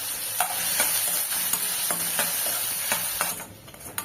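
Onions sizzle steadily in a hot pan while a utensil scrapes and stirs through them in irregular strokes, close up, while cooking a mushroom curry gravy.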